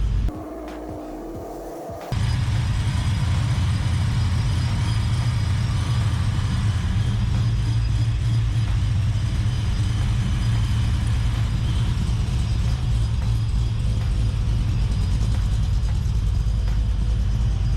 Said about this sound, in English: Maybe I'll actually rev it out a little bit higher and not let off like a little girl.